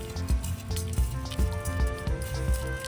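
Cumin and panch phoron spices, with fennel seeds, sizzle loudly in hot oil for a berry pickle, a close crackling hiss with frequent sharp pops and spits.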